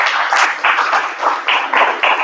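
Community audience applauding at an event for a Spanish-speaking community organization, a steady broadband patter of clapping with a few surging bursts, moderately loud and continuous.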